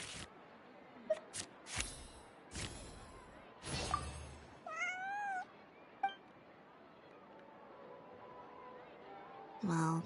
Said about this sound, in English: This is my friend's cat.